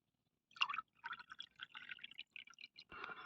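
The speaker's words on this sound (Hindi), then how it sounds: "इसमें हमें आधा गिलास पानी और मिलाना है" Water from a half-filled glass is poured into a homemade, strained fruit-peel fertilizer in another glass: quiet, close trickling and splashing in short uneven bursts, ending with a brief fuller gush.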